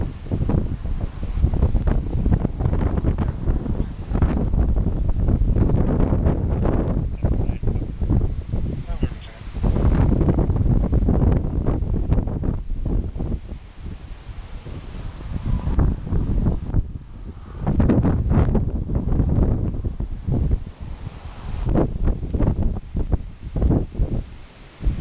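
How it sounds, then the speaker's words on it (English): Strong gusts of wind roar against the microphone during Hurricane Matthew in 2016, rising and falling in long surges with rain-laden turbulence, loud and close, while a person talks intermittently. "There's a gust."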